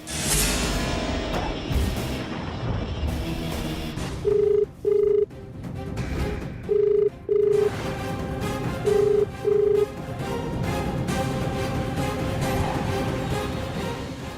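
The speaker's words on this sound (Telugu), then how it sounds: "ఫోన్ రింగ్ అవుతుంది కానీ ఆన్సర్ చేయటం లేదు" A telephone rings unanswered in three pairs of short electronic tones, evenly spaced, over a faint background hum with no talking.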